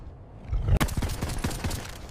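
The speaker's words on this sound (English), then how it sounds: "keep firing." Gunfire in a blizzard fight: a sudden loud blast followed by a rapid string of sharp shots, close and forceful over a windy background.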